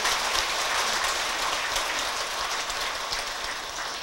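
A crowd at a Buddhist temple association's founding ceremony in Gangnam, Seoul gives a big round of applause, a dense, steady wash of clapping that holds throughout and fades slightly toward the end.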